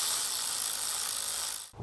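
A ratchet spins a bolt back into the engine of a 2005-2012 Toyota Avalon, giving a fast, even run of close, bright clicks that stops abruptly just before the end.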